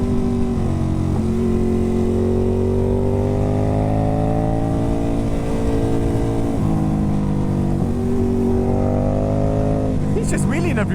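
Ducati Hypermotard 950 SP motorcycle with tuned exhaust and ECU, its engine droning loud and steady as revs rise and fall in long sweeps while riding, with wind rush and a voice briefly talking over it.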